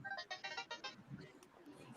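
A mobile phone ringtone plays a short repeating melodic pattern of several bright tones during the first second, then stops, with faint voices and background noise after.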